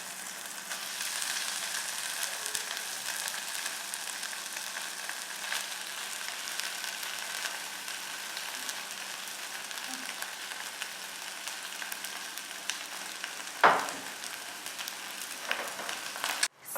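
Pork cubes frying in a hot pot, a steady continuous sizzle throughout with a few louder spits and crackles near the end, close and fairly quiet, with no talking.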